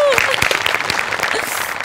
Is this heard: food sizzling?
no